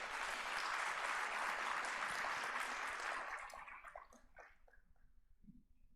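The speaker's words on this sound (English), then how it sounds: "Give yourselves a round of applause." Audience applause at a CTOS SME business day for entrepreneurs in Penang, a dense, steady clapping that fills the first three seconds, then thins out and fades to scattered claps.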